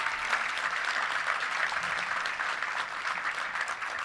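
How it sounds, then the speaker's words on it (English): A touchdown club luncheon audience applauds a college football coach, with sustained full-room clapping that stays loud and even throughout. "Let's give him a round of applause for being here today."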